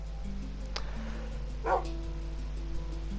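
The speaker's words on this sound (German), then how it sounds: "Hallo, Hund." A dog in the video game Minecraft on PS4 gives a couple of short, sharp barks over a steady low background hum of game music.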